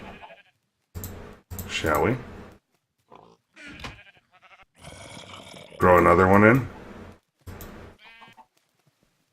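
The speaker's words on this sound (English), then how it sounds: "we need to shear the sheep just a bit more" Sheep bleating in a video game, several wavering bleats in quick succession, fairly loud and close, interleaved with someone talking.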